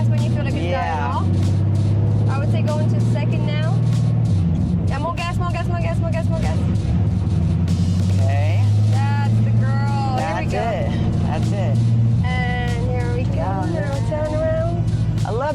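A manual stick-shift car accelerating through first and second gear, its engine a steady low drone that rises and falls with the gear changes, with people talking over it almost throughout.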